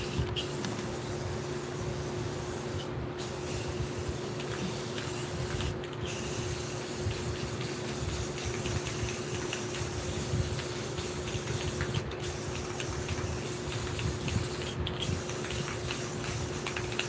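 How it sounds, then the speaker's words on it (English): An aerosol can spraying clear coat over a spray-paint artwork, a loud, close, sustained hiss lasting many seconds with four brief breaks between bursts. "Let's clear coat it."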